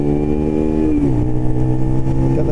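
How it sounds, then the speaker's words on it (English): A motorcycle engine revs steadily on an open road, a loud sustained drone that dips in pitch midway and then holds, close and continuous with no talking. "Get them revs up a bit."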